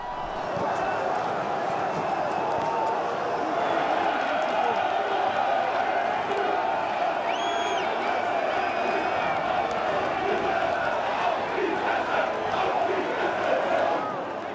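Football stadium crowd in Oldenburg roaring after the final whistle, a dense sustained wall of cheering and whistling that stays loud throughout, with a commentator's voice faintly mixed in.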